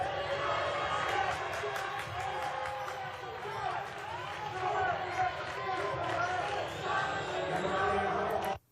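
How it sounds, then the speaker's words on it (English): A loud basketball crowd roars at a game, dense babble and shouting filling the space with a steady wash of noise, shoes and movement underneath, then the noise cuts off sharply. "Now, as you can hear, the crowd's very loud."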